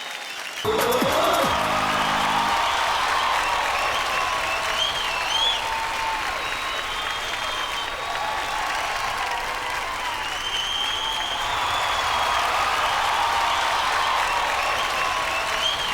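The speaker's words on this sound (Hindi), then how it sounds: "जोरदार तालियों से उनका स्वागत कीजिए" Loud, sustained audience applause at a Bhojpuri film award show, a dense wash of clapping from a large crowd that swells and holds steady, with faint cheering and music underneath.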